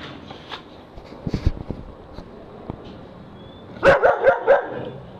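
A dog gives a short cluster of barks and yips near the end, after quieter scattered sounds, close by with no talk over it.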